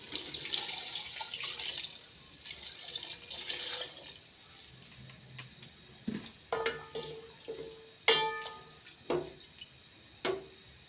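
Water is poured into a pan of fried potatoes and peas, a soft splashing and trickling that ends in several sharp sizzles and clinks, fairly faint and close.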